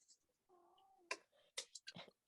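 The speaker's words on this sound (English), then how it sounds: "If you hear the cat, Sebastian just saying hello." A pet cat meowing close by, a drawn-out tonal meow followed by several shorter, sharper meows and chirps in a quiet room.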